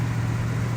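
Engine of a 1967 Oldsmobile Cutlass Supreme convertible with a carburetor, heard running at kick down as a steady, close, low engine drone with no talk.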